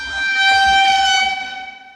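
A Swiss train horn sounds one loud, sustained multi-tone chord for about two seconds, close and dominant, fading slightly at the end.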